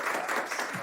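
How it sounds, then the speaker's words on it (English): A brief, dense burst of canned applause is played as a sound effect, a steady wash of crowd clapping that carries on throughout and sounds close and fairly loud. "cue the fake applause"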